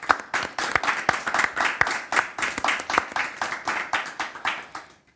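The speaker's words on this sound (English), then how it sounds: "I'd like to ask a round of applause for all the startups and the judges who decided to join us today" Audience at a startup bootcamp pitch event applauding the startups and judges, a lively mix of many hands clapping with a few sharper close claps standing out, sustained before fading at the end.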